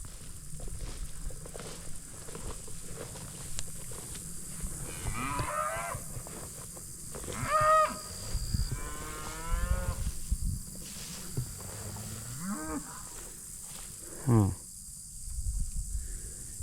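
Mashona Angus calves and cattle on a hillside farm, several moos rising and falling at mid distance, calls spaced across the clip over a steady outdoor insect hum, with one louder bellow near the end.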